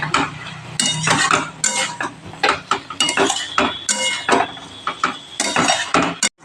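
Papaya and potato being stirred with spices in a pan for papaya ghonto, a close, busy series of metal spatula scrapes and clanks against the pan in irregular rapid strokes.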